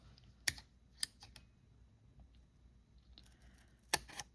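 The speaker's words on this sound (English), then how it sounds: "Now we're gonna go ahead and we're gonna do a little cutting." Scissors cutting paper for a handmade purse: a few crisp, close snips spaced apart against quiet surroundings, with no talking.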